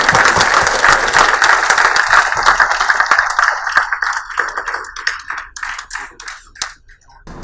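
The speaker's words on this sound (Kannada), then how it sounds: "ಜೋರಾದ ಚಪ್ಪಾಳೆಯೊಂದಿಗೆ ಅಭಿನಂದಿಸೋಣ" An audience at a Basava Samiti award ceremony applauds a guru, a loud dense burst of clapping that thins into scattered claps and fades out.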